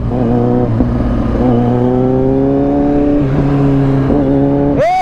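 A Kawasaki Z900 motorcycle engine drones steadily while riding, its pitch rising and falling slightly with throttle, loud and close throughout with a brief rev near the end.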